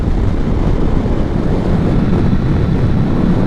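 Steady, loud wind roar buffeting a motorcycle helmet at riding speed on a road trip across Poland, a dense low rumble with no breaks.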